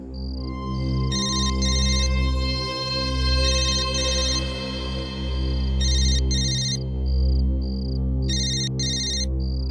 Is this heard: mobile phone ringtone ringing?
yes